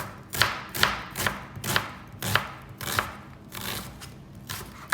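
A knife chops steak on a cutting board in a steady rhythm, about ten crisp thuds spaced evenly and heard up close with no talking.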